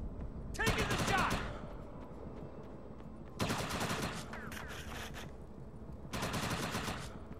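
Bursts of automatic gunfire in the Defiance shooter game, three loud volleys separated by quieter stretches of battle noise, with some voice chatter mixed underneath.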